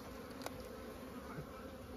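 Honeybees in a winter hive, a soft steady buzzing hum at close range with a faint click or two, low in level.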